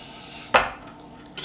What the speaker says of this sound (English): I got this filet. I'm going to cut it in half